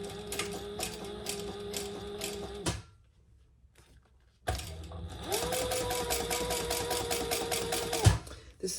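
Sewing machine top stitching in steady close whirring runs, pausing briefly before starting again, with a clunk near the end.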